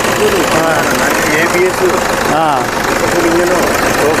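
Someone talks over the close, steady idle of a 2011 Toyota Innova V intercooler engine, which rumbles on continuously beneath his voice.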